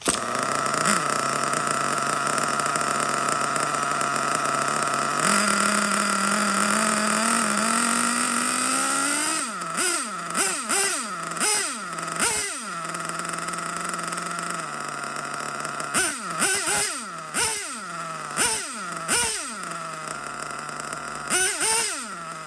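HPI Savage RC nitro truck with a Hot Bodies Truckzilla body, its small engine droning at a high idle before a series of sharp, rapid throttle blips rise and fall in quick bursts, loud and close with no talk.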